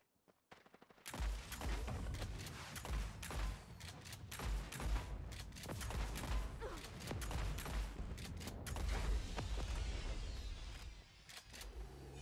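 Rapid rocket fire and explosions from the Phantom Fury video game form a dense, loud, continuous barrage of overlapping blasts. The bursts carry on nearly nonstop for about eleven seconds after a brief quiet start.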